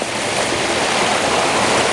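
Water in McGee Creek in the Tulameen rushes steadily over its bed, a loud, close, continuous wash with no talking.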